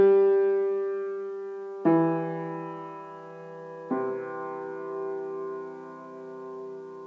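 Three low piano notes struck one after another with the left hand, each ringing out and decaying before the next, sustained and resonant, heard alone.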